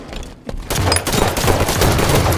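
Gunfire from the video game Halo 5 on the Refuge map: after a short quiet, dense rapid shots and bursts erupt and keep going loudly without a break.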